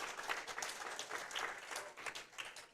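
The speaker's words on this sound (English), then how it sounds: "Nice crowd over here behind 15 and 16, cheering on the 2 local kids." Spectators at a youth bowling championship at Garden Center Lanes cheer and clap for two local kids, a quiet, distant patter of applause and scattered voices with repeated brief bursts over about three seconds.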